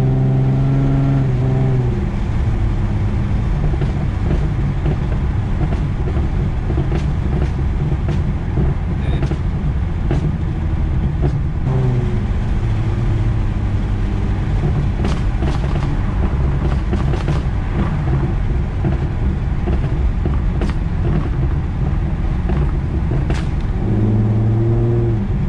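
A Nissan/Infiniti G35 with a new Y-pipe revs repeatedly, its exhaust rising and falling in loud bursts with scattered sharp pops and crackles on the decel between pulls.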